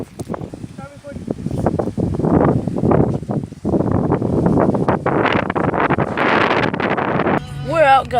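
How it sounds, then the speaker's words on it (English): Strong gusty wind buffets the microphone beside the Colorado River, a loud, steady roar with rustling bursts that continues under people talking throughout. "we came back from the river because it's too windy outside"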